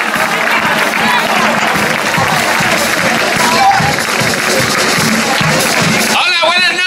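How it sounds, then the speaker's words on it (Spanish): Sustained loud audience applause and crowd noise at a carnival chirigota benefit night, steady throughout before thinning near the end with voices emerging. "Un fuerte aplauso"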